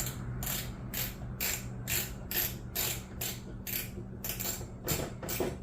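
A screw is driven through the metal of a Jeep XJ factory fender flare area, heard as a run of about a dozen evenly spaced ratcheting, grinding bursts over a low steady hum, close and fairly loud with no speech.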